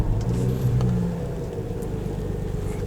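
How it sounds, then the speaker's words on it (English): A BMW E9x-series car engine fires up and settles into a steady low idle rumble, close and fairly loud, with no talking. "We are actually going to start the car."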